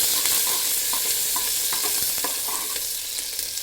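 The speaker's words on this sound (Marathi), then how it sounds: "कांदा चांगला बदामी रंगावर परतून घ्या" Green onions sautéing in a pan for a sprouted moth bean dish, a steady close sizzle with repeated scrapes and stirring taps from a utensil, no voices.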